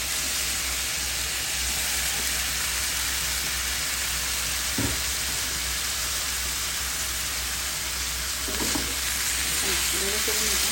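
Ribbonfish sizzles loudly in a pan as tomatoes are added, a dense, continuous hiss with occasional stirring scrapes close by.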